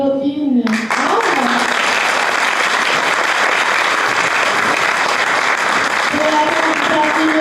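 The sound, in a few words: audience applause for pageant candidate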